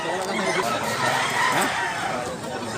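Roosters at a gamefowl farm in Mantalungon, Cebu, crowing and clucking amid steady farm noise while someone talks over them.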